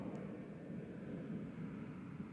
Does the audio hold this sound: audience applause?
no